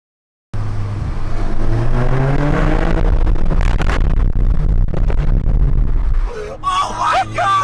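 Catless Mk6 VW GTI exhaust roaring under hard acceleration, loud and close, climbing through the revs for several seconds before a sharp lift-off crackle, with excited voices breaking in at the end.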